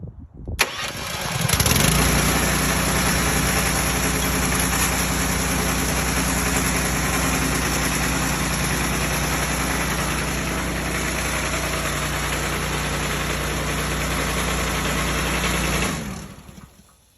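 A Honda GX200 gas engine mounted on a trailer roof pump starts on a cold day, catches and settles into a loud, steady close-up running drone for about fifteen seconds before cutting off.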